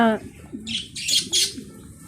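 Domestic pigeons give a couple of short, soft coos and calls close by, brief and fairly quiet.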